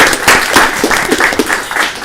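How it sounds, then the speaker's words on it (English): People at a city council meeting clap for an employee's retirement, loud, close and somewhat uneven, with voices mixed in. "please stand and applaud Angie Thomas on her retirement"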